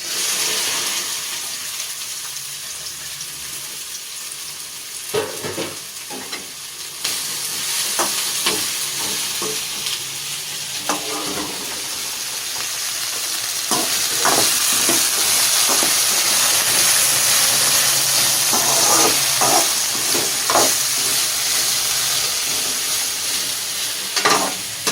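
Sliced okra and dried red chillies sizzle and fry in hot oil, with a steady loud hiss and occasional spatula scrapes and stirs building toward the end.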